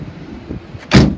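A 2014 Ford E-350 XL 15-passenger van door slams shut once with a solid thud near the end, following a few faint bumps and handling noises.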